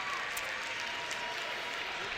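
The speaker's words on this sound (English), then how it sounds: "The crowd's going nuts right now." A crowd at a high school boys' hockey game, Orono versus Delano in a Section 2A semifinal, roaring and clapping steadily in a broad wash of noise, with voices audible over it.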